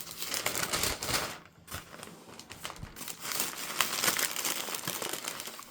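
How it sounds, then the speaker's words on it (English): Levi's tissue paper wrapped around a Jordan 3 sneaker being unwrapped, steady close crinkling and rustling of thin paper with a short quieter pause midway, no voices. "got the Levi paper. Individual wrap. I'm just gonna unwrap one."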